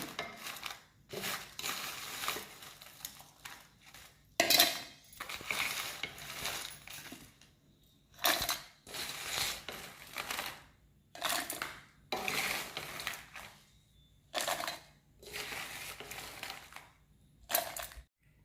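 A mixer grinder jar grinds dried red chillies and coconut for chutney, running in about ten loud, rough pulses separated by short pauses, with no talking.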